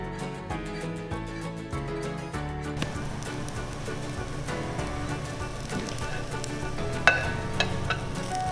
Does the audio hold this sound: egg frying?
yes